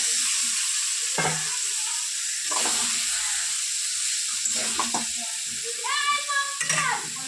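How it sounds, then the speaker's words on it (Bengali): Cauliflower and potatoes are tipped into hot spiced oil and stirred, giving a steady close sizzle and hiss broken by several scraping stirs, with a faint voice heard now and then underneath. "এবার আমি ফুলকপি আলু দিয়ে দেবো।"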